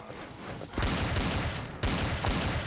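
Desert Eagle handgun fire aimed at zombies in Garry's Mod, several loud, sharp shots with bursts of rapid reports and echoing booms, close and filling the scene.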